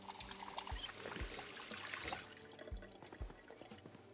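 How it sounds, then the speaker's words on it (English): Water pours steadily into a bowl being filled in the survival video game Project Zomboid, a continuous trickling splash with no talk over it. "fill the bowl because we need some sort of water container"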